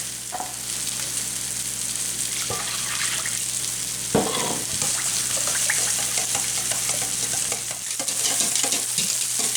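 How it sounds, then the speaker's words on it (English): A spoon scrapes and stirs canned chicken or cream of mushroom soup into milk in a bowl, steady wet mixing close by under a constant sizzle from hamburger steaks frying in a pan, with a few sharper clinks, and no talking. "Mix your chicken soup or cream of mushroom soup with your milk."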